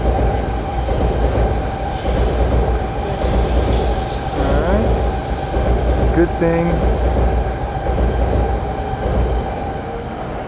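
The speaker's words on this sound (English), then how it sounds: "It's a good thing they make those trains super long." A long freight train passes close by, a steady loud rumble of wheels on rails with faint clacking and a brief squeal, while someone talks briefly over the noise.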